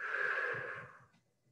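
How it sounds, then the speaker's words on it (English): A single breath blown out through pursed lips like blowing out a candle during a finger breathing exercise, a close, steady airy rush that fades out over about a second. "you're going to blow out your mouth like you're blowing out a candle"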